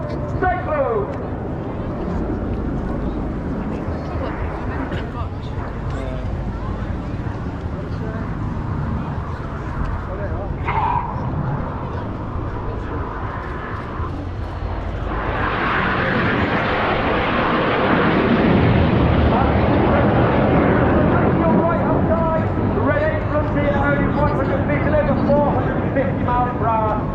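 Red Arrows display jets at the Bournemouth Air Show 2023, a loud broad roar swelling midway as aircraft pass near, with commentary talk running throughout.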